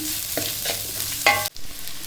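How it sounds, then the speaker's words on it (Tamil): Steady frying sizzle of chopped onions in a pan, with bursts of stirring and scraping, loud and close, with a sharp clatter near the end. "பெரிய வெங்காயம் இந்த இந்த சைஸில் கட் பண்ணி வச்சுருக்கேன் அதையுமே இதில் சேர்த்துக்கணும் ரொம்ப வதங்கணும்னு அவசியம் இல்லை"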